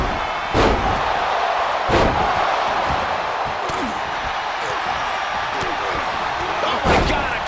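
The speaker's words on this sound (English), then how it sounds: "Oh my God, a clothesline!" Loud body slams and thuds land at irregular intervals during a WWE 2K24 wrestling match, over a constant arena crowd roar, with commentary voices talking throughout.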